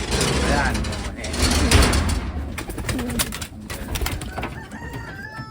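Taiwan pigeons coo in a loft, soft repeated low calls under nearby talking voices, with rustling and clattering of cage or door sounds throughout.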